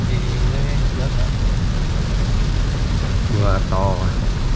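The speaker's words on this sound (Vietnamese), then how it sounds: "Mưa to này" Heavy rain drums steadily on a Kia K3 Premium driving at night, a dense continuous wash over low road rumble, with brief tonal chirps partway through.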